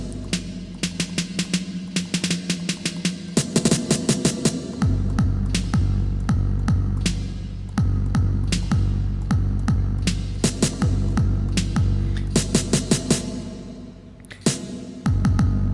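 Punchy kicks from a 909 drum machine thump in a steady rhythm, each with a washy reverb tail, alongside crisp hi-hat ticks, loud and upfront.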